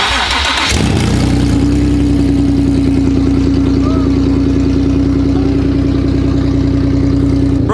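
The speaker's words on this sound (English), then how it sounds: "Idle sounds really good" A car with a newly installed Y-pipe exhaust cranks and starts, then settles into a loud, steady, close idle with a deep even rumble, while people talk faintly.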